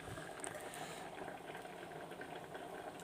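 Drumstick leaf rasam boils in a pot on the stove, a steady low bubbling and simmering that continues evenly and softly throughout.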